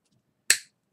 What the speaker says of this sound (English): I'm going to take my wire cutters and just cut off the round part